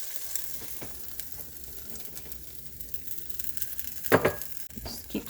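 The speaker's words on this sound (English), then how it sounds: "we're going to add the 2 eggs that I just whisked" Whisked eggs sizzle faintly in a frying pan with heated meat, with soft scraping and stirring sounds throughout and a few louder clatters of the utensil near the end.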